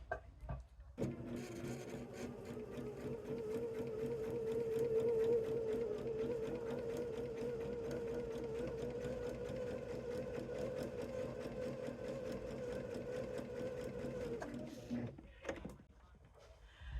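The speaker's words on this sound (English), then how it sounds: "Turn it over and sew on the line." A sewing machine stitches fabric along a marked line while piecing a Heart in the Cabin quilt block, a steady close motor whir with rapid needle clatter running for about fourteen seconds before stopping.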